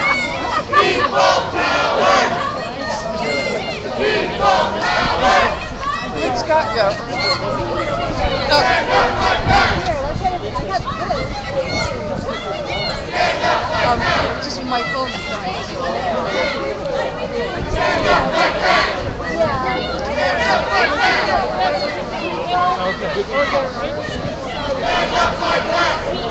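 A crowd of about 500–600 people protesting Obama outside the Getty Mansion shouts and chants in loud, surging waves, with voices nearby speaking briefly over the continuous roar.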